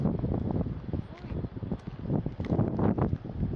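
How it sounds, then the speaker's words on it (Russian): Wind roars and buffets a microphone in steady gusts on the coast at Raversyde, Ostend, Belgium, with speech-like murmurs and rustling underneath throughout. "Ветер какой поднялся."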